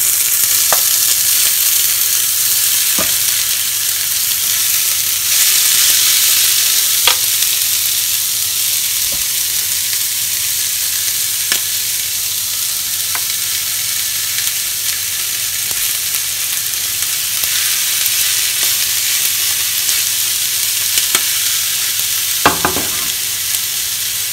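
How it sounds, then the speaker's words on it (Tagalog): Sisig sizzles loudly on a hot sizzling plate, a steady dense hiss of frying meat with occasional sharp pops and crackles, close and continuous with no talk. "Kapag mainit na po ang ating sizzling plate, pwede na po natin ilagay ang ating sisig."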